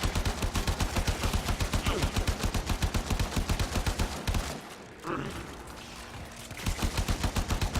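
Rapid automatic gunfire from the sci-fi shooter Warframe, a fast regular stream of loud shots that stops briefly near the middle, where a lower whoosh rises, then resumes at the same rhythm.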